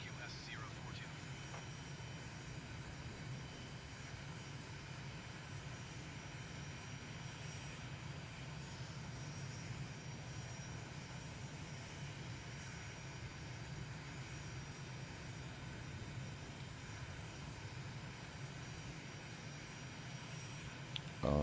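A fixed-wing aircraft's propeller engine taxiing to general aviation parking, a steady droning hum with a constant low rumble and faint high whine, loud and unbroken throughout.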